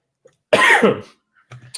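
A single harsh cough, loud and close, followed by a softer throaty sound a moment later.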